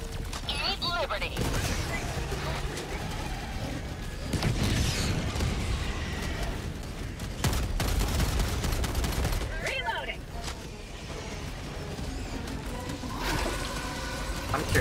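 Rapid gunfire bursts and booming blasts from the video game Helldivers 2 on a Helldive-difficulty defend mission, loud and continuous with explosions layered throughout, a player talking over the action at times.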